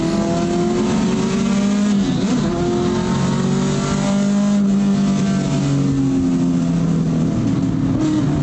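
Race cars bunched together in a pack circle a track, engines droning loudly and continuously with pitch rising and falling as they accelerate and pass, a brief tire squeal or whine near the middle.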